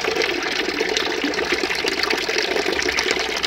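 Water is scooped and poured out of a tank of green microalgae-tinged water, giving a steady, loud splashing and gushing rush that runs continuously without pause.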